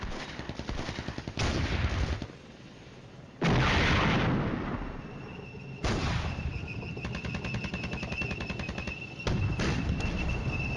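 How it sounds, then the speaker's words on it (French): Artillery barrages in the Cold War strategy game Flashpoint Campaigns, a run of heavy booming blasts and crackling impacts that come in repeated loud bursts with short gaps, filling the whole stretch with no talking. "L'artillerie tape au bon endroit."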